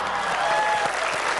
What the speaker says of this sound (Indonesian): Tepuk tangan untuk Mas Kevin.